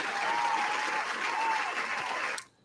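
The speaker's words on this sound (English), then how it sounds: "All right, round of applause for basketball." A round of applause during a podcast recording holds a steady, fairly full level for over two seconds, then cuts off abruptly near the end.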